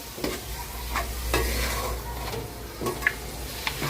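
Keema, minced meat spiced with chilli powder, fries in a pan with a steady close sizzle, broken by a few scraping strokes and light taps of a spoon as it is stirred.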